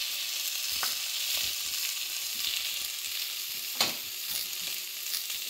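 Tomato sauce poured into a pan of frying Sri Lankan-style devilled chicken, giving a steady close sizzle with a few sharp crackles and spatters, no voices.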